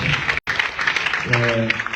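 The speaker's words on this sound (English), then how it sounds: "I am sure it deserves another round of applause." A brief burst of audience applause at a formal event with the President of Sierra Leone and the First Lady, a busy spread of clapping with a momentary dropout and a voice rising over it near the end.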